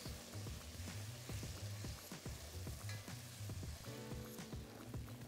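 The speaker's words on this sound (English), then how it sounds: "We'll add a few tablespoons of tomato paste and we'll cook that until the tomato paste browns" Garlic and tomato paste cook in a Le Creuset Dutch oven for braised short ribs, a quiet sizzle broken by regular stirring scrapes and knocks of a utensil against the pot.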